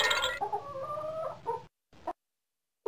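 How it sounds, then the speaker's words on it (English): A rooster crows in a farm video game, a clear drawn-out call near and loud for about a second and a half, followed by a short cluck after a pause. "Rooster."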